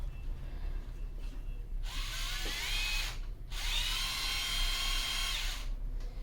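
Bosch GDR 180Li 18V cordless impact driver switched on, with two bursts of high motor whine of about one and two seconds separated by a short pause, close and clear over a quiet room.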